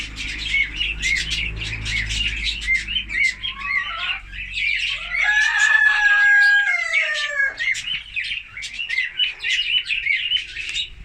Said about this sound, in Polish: Tutaj mam dwie starsze kurki i dwie z 2019 roku. Kogut również jest młody z 2019 roku.